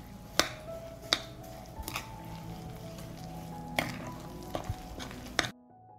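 A spoon stirs an egg and breadcrumb mixture in a bowl, making several distinct clinks against the bowl over a soft, steady scraping.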